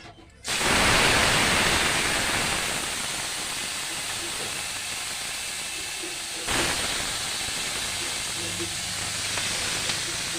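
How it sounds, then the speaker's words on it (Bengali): Shrimp fry one by one in a hot pan, a loud sizzling hiss bursting in as they hit the oil, then settling into a steady crackle with a second surge midway. "এবার আমি চিংড়ি মাছগুলো এক এক করে ভাজবো।"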